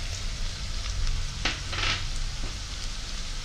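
Fenugreek seeds sizzling in hot oil for a Tamil mural fish curry, a steady close frying hiss with brief crackling bursts, no voices.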